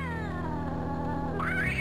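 Cats yowling and caterwauling in the game Ravenloft: Strahd's Possession, a loud drawn-out wailing cry that rises sharply near the end, heard alone without talk.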